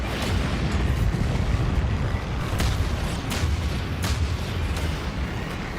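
Cannon fire in the video game DeathGrip: a dense, continuous rumbling roar with a few sharp bursts cutting through, loud and steady throughout.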